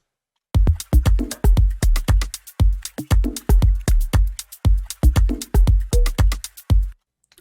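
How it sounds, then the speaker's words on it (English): Organic house production layer of dry, clicky percussive hits and shaker-like organic textures in a steady rhythmic pattern, loud and close with no voice. "From then on, I added some organic textures that sound like this."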